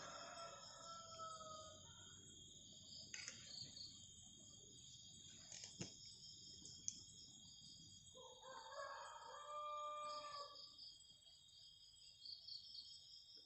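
Out in a rural camping spot, a rooster crows twice, once early and once later, faint and distant, over a steady bed of chirping crickets and insects.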